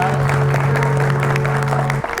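An audience at a folk music stage show applauds to welcome a singer, steady clapping blended with a held musical tone and crowd noise, cutting off near the end.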